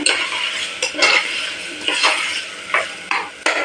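Chicken for biryani is fried in a pot and stirred, with loud metal scrapes and clanks of a utensil against the pan roughly once a second over a background sizzle.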